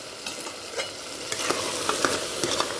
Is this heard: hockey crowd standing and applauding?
no